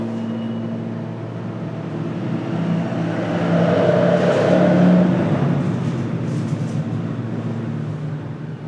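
A truck passes by outside, its broad rumbling roar swelling to a peak midway and then fading away, with no voices over it.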